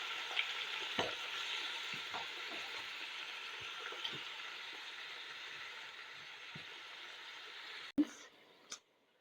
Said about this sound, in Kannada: ಎಣ್ಣೆಯಲ್ಲಿ ಫ್ರೈ ಮಾಡಬೇಕಾಗ ಚೆಂದಾಗ್ತದೆ.